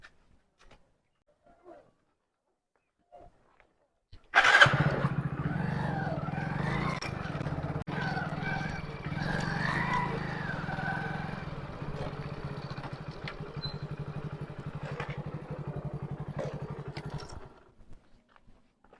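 A motorcycle is kick-started after a few faint clicks, catching with a sudden loud start. It then runs at a steady, rumbling idle for about thirteen seconds before cutting off.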